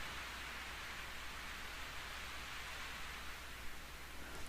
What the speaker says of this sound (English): I walked over to the wall where the roof's overhang offers some protection from the rain